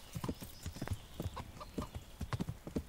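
Horse hooves clip-clop at a steady walking pace in the medieval video game Kingdom Come: Deliverance, the footfalls moderately close and layered over low ambient game sound.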